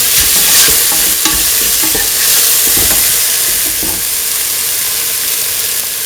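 Potato coconut milk rice being stirred in a hot pan: a steady, close sizzle with soft scraping strokes of the spoon, no voices.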